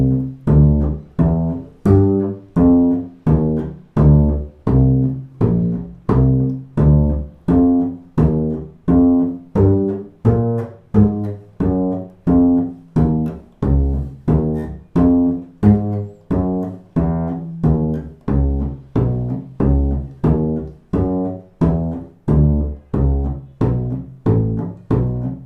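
Upright bluegrass bass walks a circle-of-fifths line in steady quarter notes, each deep plucked note evenly spaced and resonant, played alone and close for a long unbroken stretch.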